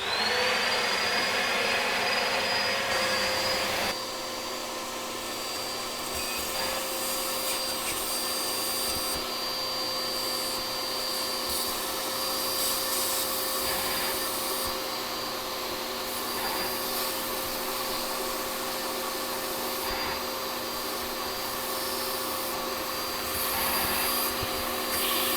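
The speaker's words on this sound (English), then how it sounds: "So what we're going to do is just apply some vacuum. We're going to suck all this stuff out." A vacuum sucks debris through a McDonald's straw: a loud, steady whine and rushing airflow that shifts pitch slightly after a few seconds and then holds for over twenty seconds, close and alone.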